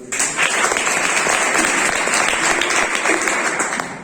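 Loud, sustained applause from an audience at a school event in Wazirganj, Gonda, a dense wash of many hands clapping steadily for the full stretch with no one speaking over it.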